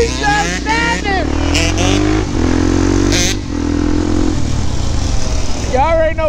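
A Suzuki LTZ400 quad's engine revs hard and loud nearby, rising and falling through repeated throttle bursts, with excited voices shouting over it.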